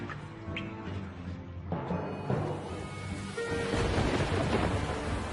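A thunderstorm with heavy downpour over the Colosseum in Rome, a steady rushing wash of rain with rolling thunder building louder toward the end, no voices.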